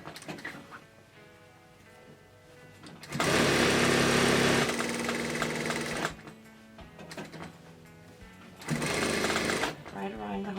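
Sewing machine top-stitching about half a centimetre in from the seam of a pleated fabric face mask with elastic, running in two loud sustained bursts separated by quieter pauses, with background music playing.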